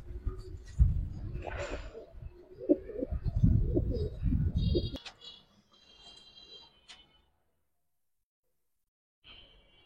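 Giribaz pigeons at a pigeon sale coo in low, throaty bursts for the first five seconds, close and fairly loud. Faint higher chirps and ticks follow before the clip goes quiet.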